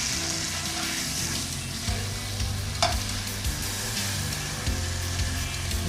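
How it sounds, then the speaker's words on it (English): Meat searing in a hot cast iron pan, a continuous loud sizzle with stirring and shifting crackles, steady throughout without talk. "Love the sound of that sizzle."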